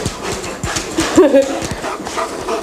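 Dogs greet a person with excited whimpers, yips and panting up close, loud and continuous, with a voice speaking over them.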